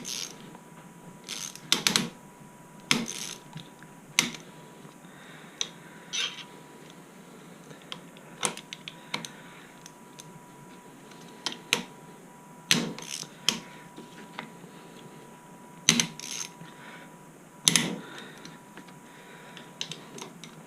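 Wrench working a bolt while fitting a winch to a Suzuki KingQuad 400 ATV: sparse, sharp metallic clicks and ratcheting bursts come at irregular intervals against a quiet background, with no talking.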